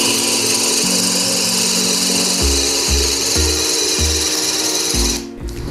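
A Dewalt DCD7781 brushless 20V hammer drill runs loud and steady in plain drill mode, a continuous high motor whine with a lower churning tone that shifts in pitch as the bit loads up, then drops off near the end.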